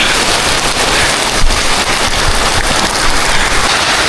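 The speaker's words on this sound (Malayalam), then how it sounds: "വാ, അടിപൊളി കേട്ടോ മഴ" Heavy rain pours in a dense, steady hiss with fine crackling patter, loud and close throughout with no break and no voices.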